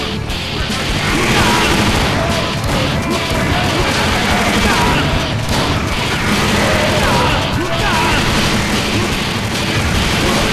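Bombs explode in the first-person shooter Painkiller Redemption, a dense, loud and continuous wall of crashing blasts and rumble with no pauses, heavily layered with game sound.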